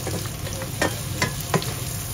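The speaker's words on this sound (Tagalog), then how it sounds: "brown ko lang ng konti itong garlic para mas mabango" Garlic frying in a pan for labong (bamboo shoot) adobo, a steady close sizzle with a few scraping stirs of a utensil, no voices.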